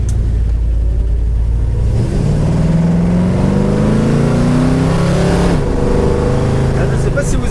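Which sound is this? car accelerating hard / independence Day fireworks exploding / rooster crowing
car accelerating hard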